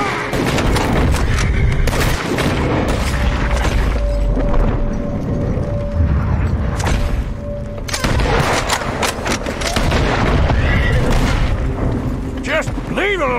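A Red Dead Redemption 2 shootout keeps up loud, constant gunfire with repeated sharp shots and heavy booms throughout, mixed with voices shouting over the battle.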